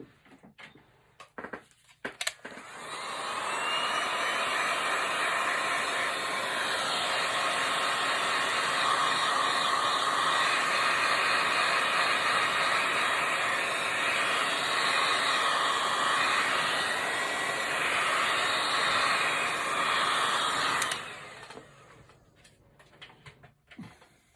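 A hair dryer blasts steadily for about twenty seconds over a painting in progress, a loud continuous whoosh that starts and stops with a click, with no talk.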